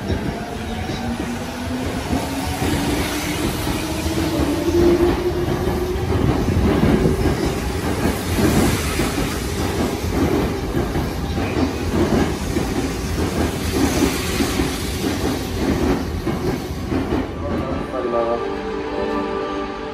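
A Tokyo Metro Tozai Line train rumbles and clatters through Nishi-Funabashi station with a steady rolling roar, wheels hissing and squealing faintly, carrying on for the whole stretch before easing off near the end.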